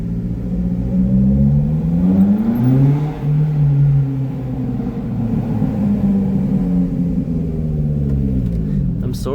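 A loud Lotus Elise four-cylinder engine accelerates through a tunnel, heard from inside the car as revs climb, drop at a gear change and rise again in a booming, echoing drone.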